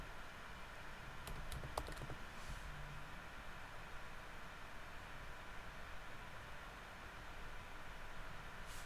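Quick bursts of keystrokes on a computer keyboard at a desk, faint and close, tapping for about two seconds then falling quiet under low room hiss.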